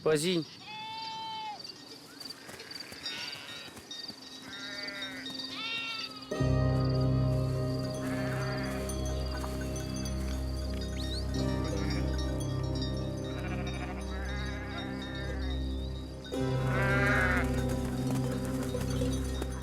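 Sheep bleat repeatedly in a Transylvanian pasture, several wavering calls near and far, with a speaking voice and a steady background hum underneath.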